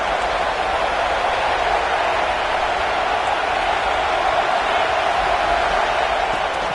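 A football stadium crowd roars steadily during a big third-down play in the fourth quarter of an Eagles game, a broad, continuous wash of distant cheering with no clear breaks.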